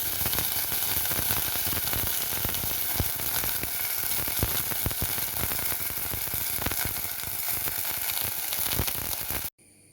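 Drumstick flowers fry in a hot pan with a loud, dense, steady sizzle and crackle, continuous and close, ending abruptly.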